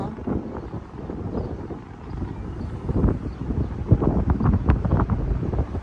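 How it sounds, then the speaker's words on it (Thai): Gusty wind rumbling against a microphone outdoors in New York during wildfire smoke haze, a continuous low roar that swells and dips, loud throughout with no talk. "ดีที่มีลม"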